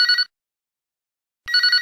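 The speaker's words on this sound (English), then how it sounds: "answer that phone" A telephone bell rings in two loud, bright bursts separated by a short silence, alone with no voices.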